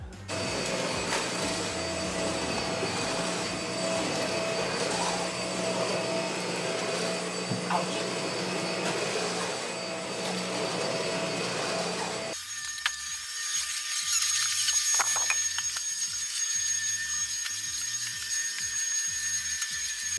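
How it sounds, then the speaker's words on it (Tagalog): A vacuum cleaner runs steadily during household cleaning, a loud continuous whirring drone that changes abruptly partway through to a thinner, more rattling tone, with no voices. "Sumana kog vacuum"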